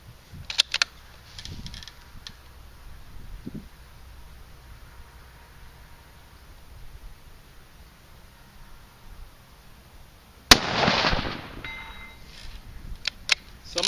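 A .243 Win rifle fires a single shot with 80-grain Fort Scott TUI bullets at a long-distance range, one sharp loud crack near the end rising out of quiet wind and faint handling noises.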